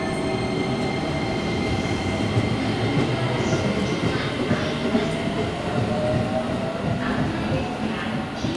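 A Musashino Line 205 series electric train at Shin-Matsudo Station rumbles and clatters steadily along the platform, loud and close, with wheel squeal and faint station announcements mixed in.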